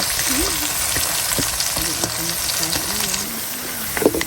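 Chili peppers sizzle and fry steadily in a pan at close range, with scrapes of stirring and a faint voice talking underneath.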